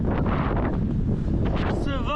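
Strong headwind buffets the microphone in loud, continuous low rumbling gusts with a breathy roar, and a brief voice rises near the end.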